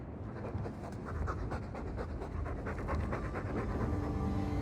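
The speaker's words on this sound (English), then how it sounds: "All that noisy dog breath, day in, day out, make him stop." A dog in the Dragon Age 2 video game pants heavily and steadily, a close, continuous rhythmic huffing breath that fills the scene with no one speaking over it.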